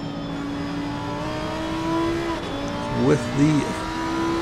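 A Lamborghini race car engine in sim-racing at Watkins Glen holds a steady tone, then revs up and down in quick bursts near the end, with other cars droning behind a talking commentator.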